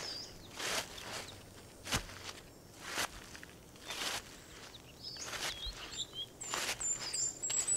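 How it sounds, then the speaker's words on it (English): Boots crunch through dried, fallen forest leaves in a steady walking rhythm, each step a crisp crackle, while small birds twitter and chirp faintly among the trees, growing more active toward the end. "Under your boots, dried and fallen leaves crumble, their crackling noise puncturing the bird sounds twittering in the trees."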